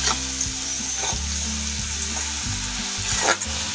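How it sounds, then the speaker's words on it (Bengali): Diced carrots fry in oil in a pan for vegetable white pulao, with a steady close sizzle and repeated scraping stirs of a utensil throughout, no voices. "একটু লাল করে ভেজে নেবেন গাজরগুলোকে"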